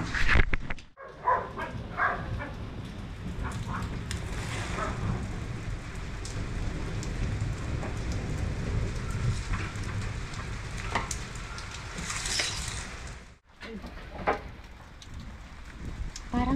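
Rain falls steadily with a broad hissing patter, briefly interrupted by a couple of short dropouts, with occasional faint sounds in the background.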